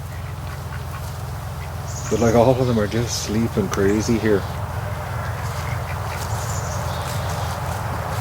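Ducks, including Muscovies, resting in shade on a farm, break into a short run of close, loud rhythmic quacking over a steady low hum while someone talks.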